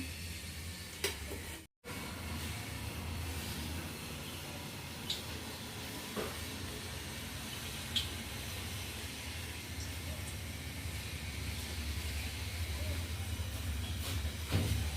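Bhaji frying in hot oil for a Swami's offering, a steady close sizzle and hiss with a few faint clinks and pops and no talking.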